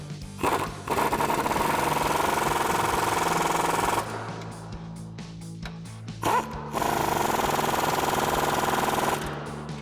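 A 21 mm socket driver tightens the upper suspension nuts on a 2019 Chevrolet Silverado 1500 during a lift kit install. Two long bursts of loud, rapid rattling tool noise are separated by a brief pause.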